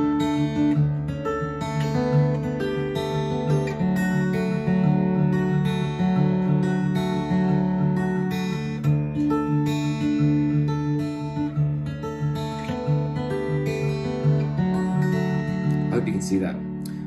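An acoustic guitar strums a repeating pattern of chords, steady and close, with bright plucked strings ringing over a low bass note.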